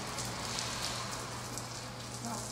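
Steady rain falls outdoors in West Texas, a dense even patter and hiss that holds without a break, with no voices.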